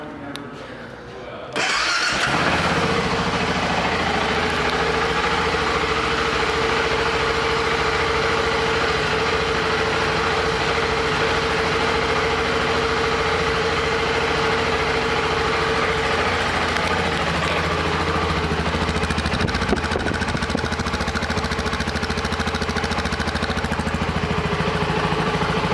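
A 2001 BMW F650GS motorcycle engine starts after a brief quiet moment, then settles into a steady, close, even idle for the rest of the clip.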